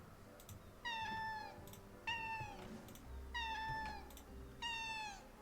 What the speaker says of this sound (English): When you see a light flicking like that, you can meow to destroy it.